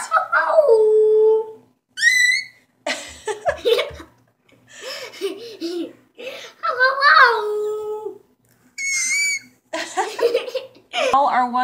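A young child imitates a dog indoors with a run of high, wavering howls, yelps and whimpers, broken by short pauses and giggly vocal bursts, close and fairly loud.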